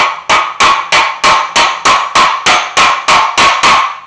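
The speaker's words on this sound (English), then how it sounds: "take a little body hammer, ball peen hammer, something along those lines, and something you can put underneath there and hit against." Body hammer or ball peen hammer beating on a bent valve cover of a 1981 Chevy C10 short bed squarebody, a steady run of about a dozen sharp metallic strikes, loud and close, with no voices.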